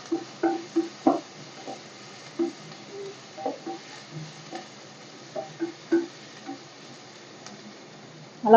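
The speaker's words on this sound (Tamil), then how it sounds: "வெங்காயம் நல்லா வதங்கணும். பிரவுனிஷ் ஆற வரைக்கும் வெங்காயம் வதங்கணும்." Onions sautéing in a pan for a soya gravy, with spoon stirs and scrapes clinking at irregular intervals over a faint, steady sizzle close by.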